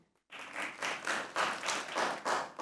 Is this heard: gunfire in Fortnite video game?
no